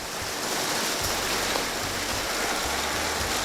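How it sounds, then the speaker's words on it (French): A rain shower during a thunderstorm falls steadily and evenly, a close, continuous patter and wash of drops with no voices. "Il pleut. Et puis il y a de l'orage."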